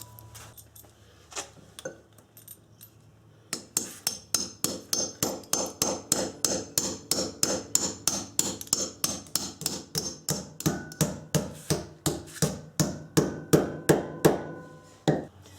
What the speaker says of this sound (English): then we'll drive in the 4 bolts